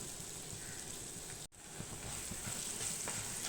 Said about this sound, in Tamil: இதிலே நம்ம வந்து நல்லா வறுத்து எடுத்துக்கலாம்